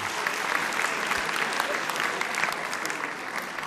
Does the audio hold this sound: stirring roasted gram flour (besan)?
no